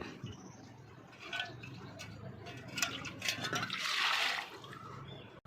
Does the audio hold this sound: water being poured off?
yes